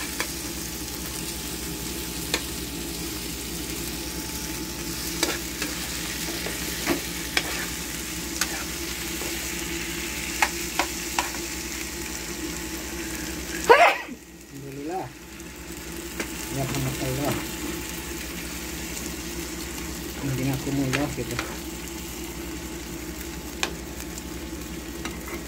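Eggplant stir-frying in a pan for spicy balado, a steady close sizzle with scattered clicks of stirring throughout and a brief clatter partway through, then the frying carries on.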